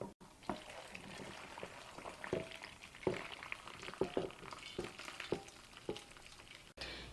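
Hot soy marinade poured over king oyster mushrooms in a container, a soft steady liquid hiss with small sizzling pops and splashes, faint and close, no talking.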